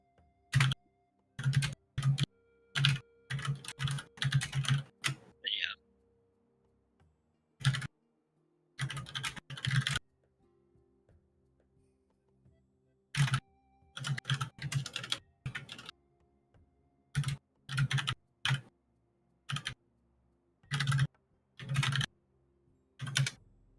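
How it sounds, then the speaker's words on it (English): Close, clattering keystrokes on a computer keyboard in a race time room come in irregular bursts separated by short silent pauses, with no talking. "You can probably hear me typing away."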